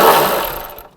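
A 10mm socket ratchet works a brake hose bracket bolt on a 2007-16 GMC Acadia during a strut replacement, giving a short, close, loud burst of clicking that fades out within a second.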